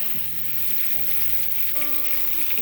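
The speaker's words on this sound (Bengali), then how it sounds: "চুলার আঁচ মিডিয়াম করে মাছগুলোকে লাল করে ভেজে নিচ্ছি।" Koral fish frying in soybean oil in a pan over medium heat, a dense steady sizzle with crackling spatter, close and continuous without talk.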